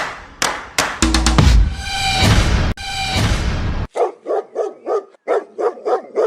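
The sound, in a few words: dogs barking in cartoon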